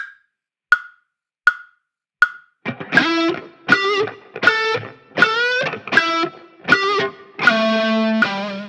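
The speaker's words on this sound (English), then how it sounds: "Against the quarter note click, it's going to sound like this." A metronome clicks four evenly spaced quarter notes alone, then a sung or spoken one-syllable rhythm joins on each beat, the voice loud and close with the clicks continuing underneath.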